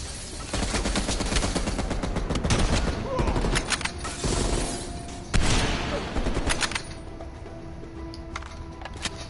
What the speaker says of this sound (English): Bring out that heavy MG.